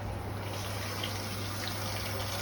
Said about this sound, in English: turn the tap on.